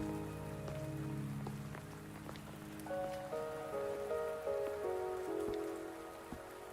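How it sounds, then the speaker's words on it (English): Steady rain patters on surfaces in the anime-style action game Wuthering Waves, a continuous wash running the whole stretch, with game music tones and soft chimes layered over it. "Raining though."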